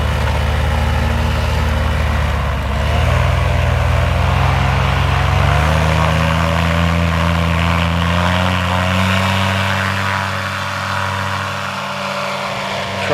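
A paramotor engine runs nearby with a loud continuous droning hum, its pitch climbing in steps as the pilot throttles up to launch, then holding steady.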